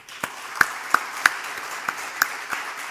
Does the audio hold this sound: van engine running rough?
no